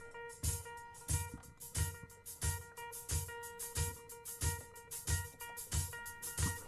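A slowed-down 1970s song plays, with heavy low drum hits in a slow, even groove under sustained tonal layers, the beat landing regularly throughout at moderate loudness.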